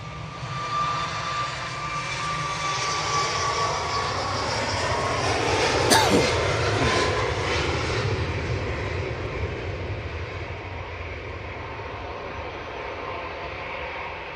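Jet engines of an approaching EasyJet airliner, a broad rumbling roar with a rising whine that builds, peaks around the middle as it passes, then fades gradually.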